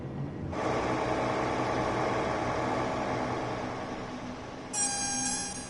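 Noisy DMU diesel train engine in Train Sim World 5 rumbles and drones steadily at close range, swelling in after a moment, joined near the end by a bright, high-pitched tonal sound, with no talking.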